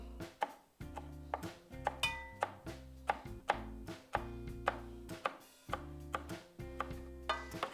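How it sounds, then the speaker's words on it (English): A knife chops fresh basil on a cutting board in a home kitchen, steady sharp knocks in an even rhythm, close and clear with no talking. "So I'm gonna cut this up."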